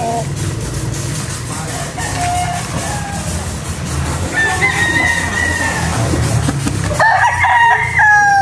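Roosters crow repeatedly, two or three calls overlapping near the end, over a constant low engine hum and general outdoor noise.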